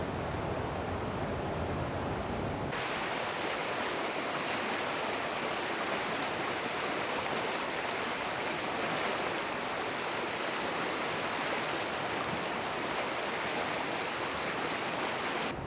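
River rushing over rocks, a dense, steady broadband wash of flowing water that starts after a brief quieter moment and then holds constant and full, with no voices.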